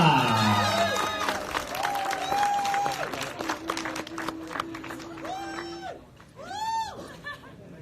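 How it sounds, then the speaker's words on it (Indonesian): Applause at a gala premiere press conference for the film Matt & Mou, many hands clapping with scattered cheers and whoops from the crowd, mixed with bright sustained tonal sounds that fade and return. "Saya minta tepuk tangan yang lebih meriah lagi juga untuk Monty Tiba."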